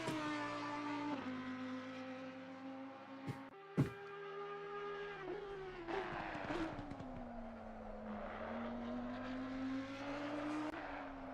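An Audi race car in a racing video game at Imola drives with a steady engine drone and shifting revs, punctuated by a couple of brief sharp transients, with no talk over it.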